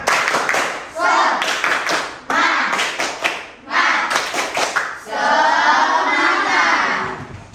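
A classroom of students does a rhythmic spirit clap: bursts of sharp, patterned hand claps in unison, ending in a loud group shout or chant, with the voices of the class mixed in.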